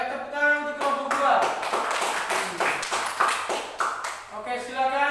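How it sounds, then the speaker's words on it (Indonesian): Classroom applause for a student group, a loose patter of claps from a small number of people, irregular and fairly close, heard together with voices and chatter. "tepuk tangan untuk kelompok 2"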